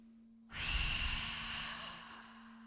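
A deep cleansing in-breath at the close of a yoga hip-opening flow, a long, close, airy inhale that swells suddenly and then slowly fades over a steady low hum.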